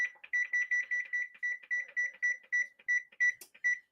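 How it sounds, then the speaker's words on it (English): Kitchen oven timer beeping in a steady rapid series of short, clear electronic tones, about a dozen beeps in quick succession, close and alone in a quiet kitchen. "We're going to set the timer."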